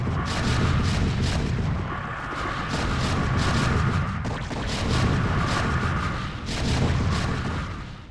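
Siege tanks firing in StarCraft, a dense, continuous barrage of heavy booms and rumbling blasts with no pauses, loud and close throughout.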